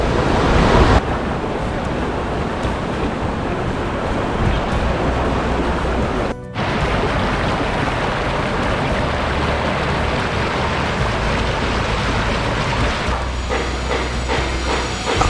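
The Marmala waterfall stream at Teekoy in Kottayam gives off a steady, loud, dense rush of falling water that fills the whole stretch with an unbroken roar, briefly dipping once.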